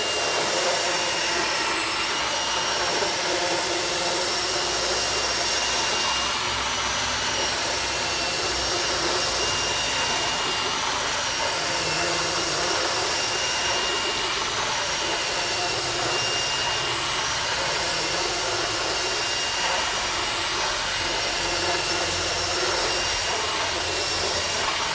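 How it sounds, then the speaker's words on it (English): A rotary file grinds steadily while trimming a 2¾-inch hole slightly wider, a continuous high-pitched whine and rasp that runs unbroken and loud throughout. "It's just a fuzz small, so I use a rotary file."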